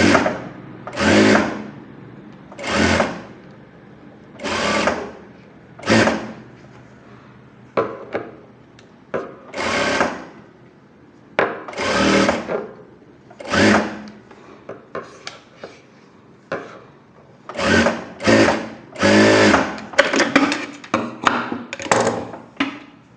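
Sewing machine stitching folded piping onto a puff sleeve, running in repeated short bursts of whirring with pauses and small handling taps between, close by.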